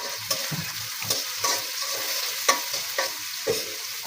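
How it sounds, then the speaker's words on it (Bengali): Onion and green chili frying in a pan for a leafy greens dish, giving a continuous hiss of hot oil broken by regular clinks and scrapes of stirring, close and fairly loud, with no voices. "পেঁয়াজ মরিচ লাল লাল হইলে শাকগুলো দিয়ে দিব"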